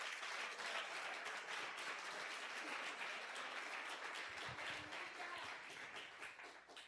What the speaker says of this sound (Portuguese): Eu, se fosse você, aplaudir o Senhor agora.